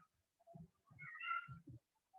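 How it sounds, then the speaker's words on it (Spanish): A cat meows indoors during a sermon class, giving a few short, faint, separate mews and one longer, higher cry in the middle, with no voices at that moment. "Sí, el gato está, se escucha mucho, ¿verdad?"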